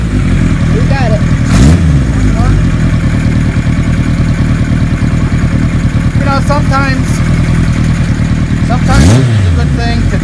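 A 1976 Kawasaki KZ900 with an air-cooled engine idles steadily while warming up, loud and close, with someone talking over the engine.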